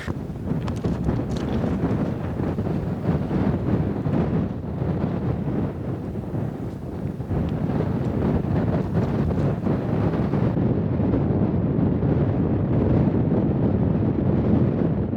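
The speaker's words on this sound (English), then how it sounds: "Now that we're pretty high up on this ridge, we're encountering some of that wind I was talking about." Strong cold wind buffets the microphone high on a mountain ridge in Banff National Park, a loud, continuous roaring rumble that gusts unevenly throughout.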